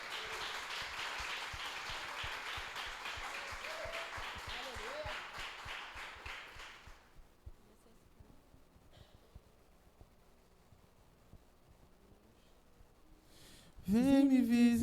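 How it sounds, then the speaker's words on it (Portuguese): Congregation applauding at an evangelical church service: a dense wash of clapping for about seven seconds that fades out, a quiet stretch, then a voice begins singing near the end. "Salva de palmas ao nosso Senhor"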